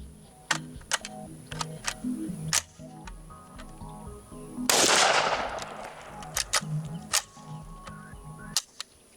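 An AK rifle with feeding trouble fires in scattered single sharp cracks, then one longer burst of harsh noise in the middle, loud and close with a ringing background.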